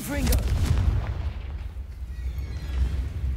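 A Confringo spell blast from the Hogwarts Legacy video game bursts loudly near the start, followed by a dense rumbling wash of battle noise with some talk mixed in.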